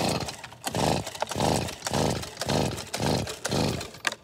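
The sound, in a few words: leaf blower engine sputtering during pull-start attempts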